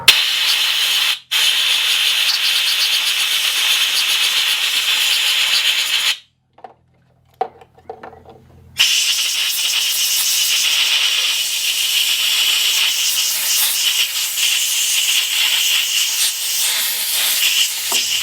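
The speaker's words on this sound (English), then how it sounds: "while we also have the air compressor out, I'm going to blow out all these connection points" Compressed air from an air compressor blasting out the connection points of a cracked tail light, a loud steady hiss that runs alone, cuts off briefly for a couple of seconds, then resumes at full strength to the end.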